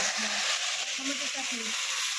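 Potatoes fry in a pan in a smoky village kitchen, a steady close sizzle with a faint voice briefly murmuring over it.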